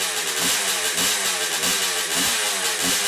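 A freshly restored motorcycle engine runs close by, a loud, continuous rumble with a regular pulsing throb and a slightly uneven, lumpy idle.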